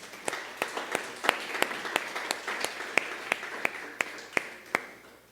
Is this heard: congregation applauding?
yes